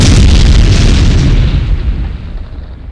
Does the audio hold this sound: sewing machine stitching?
no